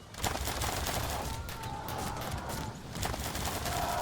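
Missile volley loosed at knights in the medieval strategy game Field of Glory 2, heard as a dense, continuous crackle of shots and impacts at steady loudness for a few seconds, without speech.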